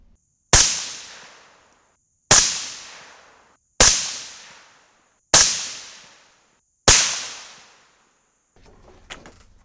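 Five loud .223 rifle shots fired one after another at roughly one-and-a-half-second intervals, each a sharp crack with a decaying tail, followed by faint handling noise.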